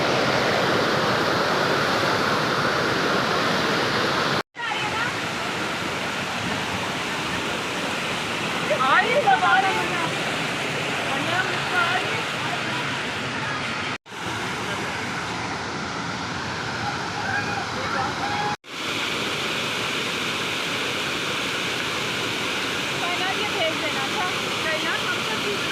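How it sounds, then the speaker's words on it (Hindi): Kiwai waterfall in the Kaghan Valley rushes with a loud, continuous broadband roar close by, steady throughout apart from a few brief cuts. "यहाँ पानी का शोर बहुत ज़्यादा"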